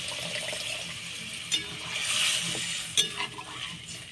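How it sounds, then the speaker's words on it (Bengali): Potatoes simmering uncovered in added water in a pan for an egg and potato curry, a steady bubbling hiss with a few sharper clinks of stirring partway through, close and fairly quiet, no talking. "এইবার আলুটা বেশ ভালো করে সেদ্ধ করে নেব"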